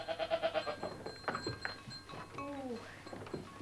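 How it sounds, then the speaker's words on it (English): Goats in a cozy barn bleat in a quick wavering run, then give scattered calls and a longer drawn-out bleat, fairly close and moderately quiet. "Let's go and see some goats."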